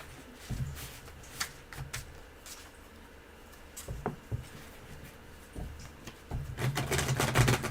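Soft riffling and flicking of a stiff, large tarot deck being shuffled, in short bursts with pauses between, ending in a louder, busier shuffle.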